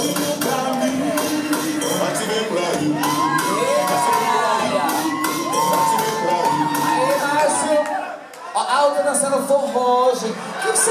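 A crowd at a dance club show cheers, shouts and whoops loudly and continuously, with high excited voices and scattered clapping, briefly dipping before surging again near the end.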